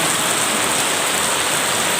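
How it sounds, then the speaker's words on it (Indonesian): Heavy rain pours down steadily during a power outage, a dense, even hiss that fills the whole clip with no pauses and no voices. "Ini hujan lebat dan mati lampu."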